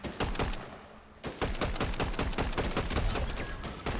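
Ranger AR assault rifle fire in Fortnite, fast steady bursts of loud, close shots, one brief pause early on, then continuous rapid firing to the end.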